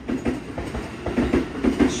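A Toyo Rapid Railway commuter train stands at a station, its low rumble steady, with soft rhythmic clacks from the wheels as it begins to move off.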